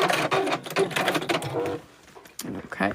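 A sewing machine runs in bursts, stitching along the edge of a zipper pouch with a waterproof lining and backstitching at the end. The mechanical whir is fairly close, with brief pauses between runs.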